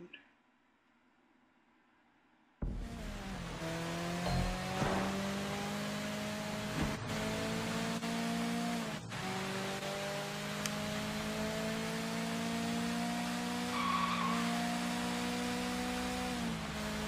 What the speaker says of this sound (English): Driving on the wrong side of the road